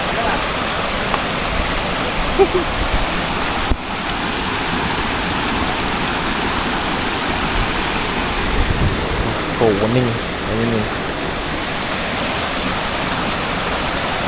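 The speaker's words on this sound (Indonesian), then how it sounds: "Ini di sana air terjun Kapas Biru." The Kapas Biru waterfall in Lumajang roars as a steady, broad rush of falling water, heard from across the valley and constant throughout, while people exchange a few brief words.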